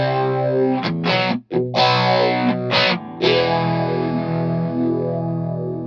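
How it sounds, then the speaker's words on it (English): Electric guitar through a wet-dry-wet stereo rig, a Fender Deluxe Reverb amp in the centre and a Harley Benton Thunder 99 stereo power amp left and right, ringing out loud distorted chords with chorus-like shimmer, brief gaps between strums and a long sustained decay. "So we've got Fender Deluxe Reverb in the middle, and then we've got the Thunder 99 left and right."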